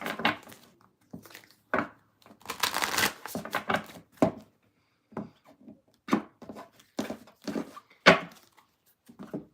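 Tarot cards being shuffled by hand during a reading, giving a run of soft papery riffles and slaps in uneven bursts. The sound is close and there is no talking.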